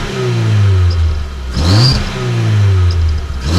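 A car engine with a novelty gadget fitted in its exhaust revs loudly and close by, rising and falling in two strong sweeps with a whistling tone on top at the peak, and no voices.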